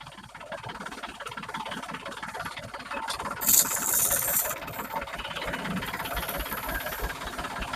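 Low-cost pesticide spraying machine with a spray gun, its small engine running steadily at a constant drone, with a brief hissing burst from the sprayer partway through.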